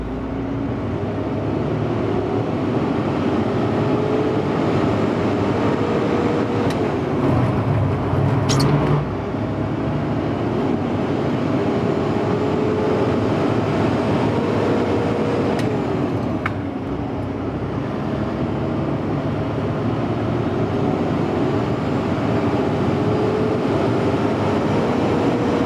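A truck with a Caterpillar C-15 engine pulls away in low gear, its steady diesel drone rising gently in pitch under constant road and cab rumble, with a brief clunk midway and no talk.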